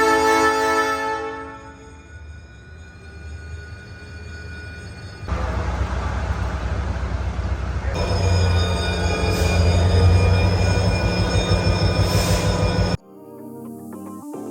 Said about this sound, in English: It's time for the North Shore Scenic Railroad.